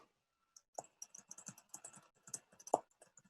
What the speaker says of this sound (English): Are you typing? I can hear typing.